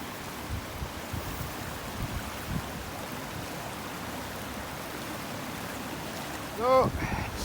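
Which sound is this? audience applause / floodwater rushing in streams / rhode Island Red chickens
floodwater rushing in streams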